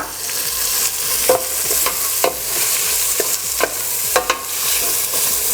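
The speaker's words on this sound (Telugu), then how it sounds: "అన్నీ వేసుకోవాలి, మెల్లిగా మిక్స్ చేయాలి." Mushroom sabji with chilli powder being stirred in a hot pan, steady sizzling broken by a series of close, distinct scraping strokes of the spoon at an unhurried, even pace.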